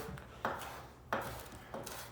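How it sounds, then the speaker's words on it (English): Three separate knife chops land on a cutting board as parsley is loosely chopped, each a crisp, close thunk about half a second apart. "so we're just loosely chopping the parsley"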